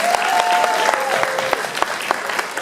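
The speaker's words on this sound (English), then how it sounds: "Let's give these gentlemen a round of applause" Audience applause for two performers at a school talent show, dense loud clapping from a nearby crowd with a faint held tone underneath, gradually thinning toward the end.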